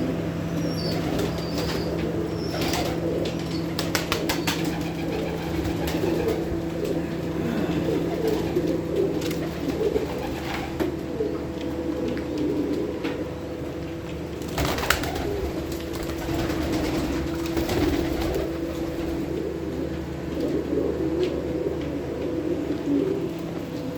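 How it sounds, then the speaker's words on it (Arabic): Pigeons at a small home aviary coo softly and intermittently amid a busy outdoor background, with occasional wing flaps and other bird calls throughout, no talking. "والله تاركين الحمام يعني بصراحة ما مهتم بيهم"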